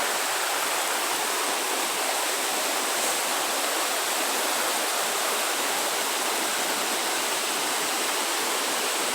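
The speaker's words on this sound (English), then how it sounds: "that's the waterfall" A waterfall on a creek at Picnic Rock in Lamington National Park rushes in a steady, loud broadband roar, unbroken and even from start to finish, with no voices.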